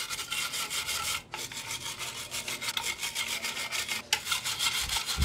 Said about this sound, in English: using a wire brush, clean off all the grass and dirt around the threads and nuts.